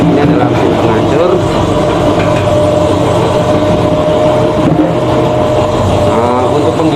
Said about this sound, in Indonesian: Ini adalah mesin penghancur.